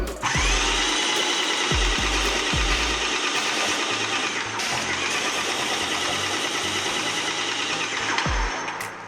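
A Krause & Becker airless paint sprayer blasts paint with a loud, continuous hiss over a low, pulsing motor hum, holding steady for the whole stretch with a brief dip near the middle.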